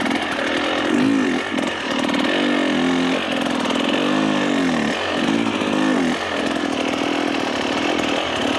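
A dirt bike's single-cylinder engine revs hard and loud while the rider pivots the bike around on a trail to climb to the upper path, throttle rising and falling in uneven bursts with a rough buzzing drone throughout.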